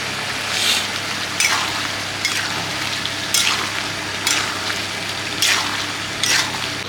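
Potatoes and peas with turmeric and salt are stirred in a sizzling pan for a small-potato and paneer dish. Steady frying hiss is broken by about six regular scraping strokes, close and fairly loud, with no talk.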